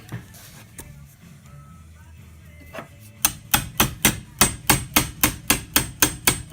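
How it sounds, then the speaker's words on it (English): A 1/2 inch chisel struck with a mallet to clean out a woodworking mortise, about a dozen sharp, evenly spaced blows ringing close and loud after a quieter start. "I'm going to take this 1/2 inch chisel and just clean up the rest of it."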